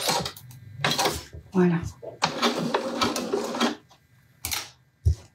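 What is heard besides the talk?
sewing machine starting to sew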